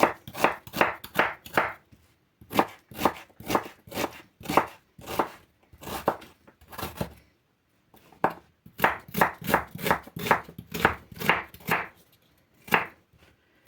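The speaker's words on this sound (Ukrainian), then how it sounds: "Ріжу цибулю не дрібно і не велику." A knife chops onion into medium pieces on a board for a zucchini salad, in quick bursts of rapid crisp strokes separated by short pauses, close and clear with no talking.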